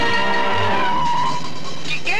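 A car pulls away with tires skidding and squealing, a loud, close, sustained screech with engine noise that rises toward the end over a busy soundtrack.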